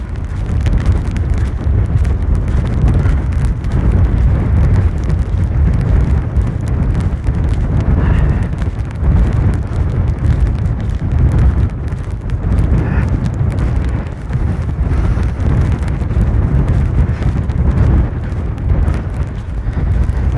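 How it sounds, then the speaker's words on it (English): Strong wind roars at a seaside pier, loud and steady, buffeting the microphone with a constant low rumble and no pauses. "Good thing about this high wind,"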